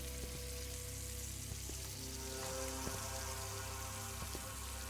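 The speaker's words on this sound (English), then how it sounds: "The sizzling and popping sounds of food frying accompanied the increasing aroma of eggs and bacon" Eggs and bacon fry in a pan with a soft, continuous sizzle and scattered faint pops and ticks, steady and low in level throughout.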